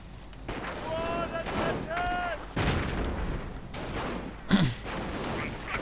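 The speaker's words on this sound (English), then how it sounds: "Mortar rounds falling though." Mortar rounds fall in a video game, landing as heavy booming blasts with one sharp impact near the end, while voices talk over the battle noise.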